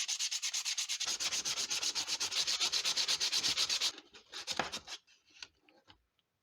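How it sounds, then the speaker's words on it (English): Hand sanding of a crow sculpture made from Bondo automotive body filler, with fast, even back-and-forth rasping strokes up close for about four seconds, then a few slower, scattered rubs before it stops. "I'm going to hand sand it a little bit to get this smooth"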